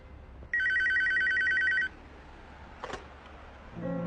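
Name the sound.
telephone ringing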